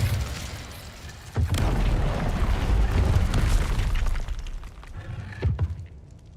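Incendio fire spell cast in the Hogwarts Legacy video game, a loud booming whoosh of flame that bursts in, swells and rumbles for several seconds before fading, with a second thumping burst near the end.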